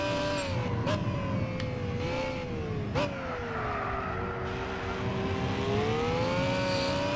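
In Gran Turismo 6, a race car's engine whines and revs hard as it accelerates, the pitch climbing and dropping at quick gear changes, steady and fairly close with no talk over it.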